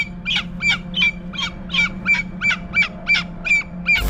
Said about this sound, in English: the parrot was getting frightened and started screaming too